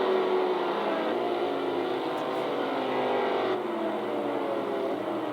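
Slot cars in a GT race lap a club track at Valhalla Speedway, a continuous close whirring electric motor drone with faint shifts in pitch as cars pass, no voices.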